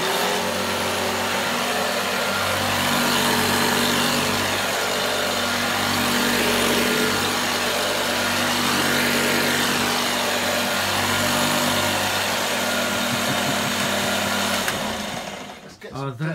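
A vacuum cleaner runs on carpet at low setting, a loud steady motor drone with an even beating hum, stopping abruptly near the end.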